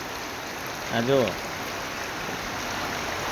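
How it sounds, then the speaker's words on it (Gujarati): Water rushing in from a village area makes a faint, steady hiss like running rain, with a brief spoken phrase near the start. "હમણાં વાડાનું પાણી આવે છે"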